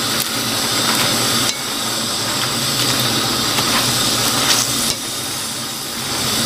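Chinese kale and asparagus stir-frying in a pan until wilted give off a loud, steady sizzling hiss, broken by a few soft clanks of the utensil against the pan.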